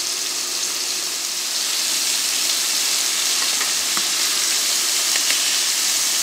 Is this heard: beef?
yes